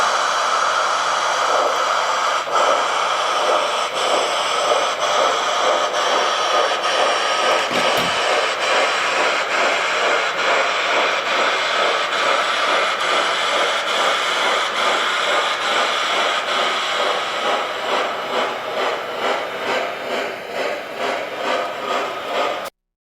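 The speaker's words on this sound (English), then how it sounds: "what you're going to hear, instead of just a normal chuff chuff, you're going to hear a whoosh whoosh of the cylinder cocks." An O scale model C&O Greenbrier steam locomotive vents its cylinder cocks, giving a loud, steady hissing whoosh with a faint rhythmic pulse that continues for about twenty seconds before fading slightly at the end.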